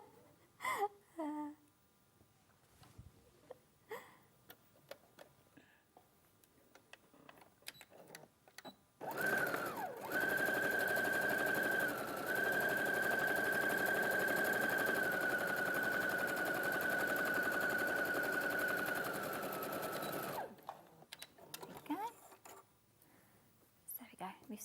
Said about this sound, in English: We've stitched together with our 1 centimetre seam allowance